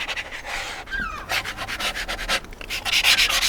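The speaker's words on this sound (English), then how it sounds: "we're going to scrape, do a bit of scraping now I think" Oil pastel scraped across paper while drawing a landscape, giving close, irregular rubbing and scratching strokes in short bursts, with no talk.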